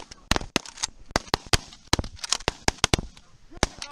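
Shotgun shots fired at geese during an early season goose hunt in South Dakota, a rapid volley of many sharp, loud blasts overlapping from several guns, with faint voices between them.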